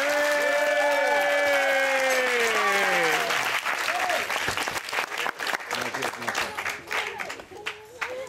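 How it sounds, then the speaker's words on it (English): Wedding guests give loud, sustained applause that fills the room, mixed with cheering. A speaker's voice carries over the start of the clapping, then the applause thins out. "let's give a round of applause for Ozzy right there."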